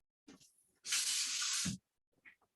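Water runs from a kitchen tap for rinsing, a short hissing spray of just under a second, close and fairly quiet, with brief clatters before and after.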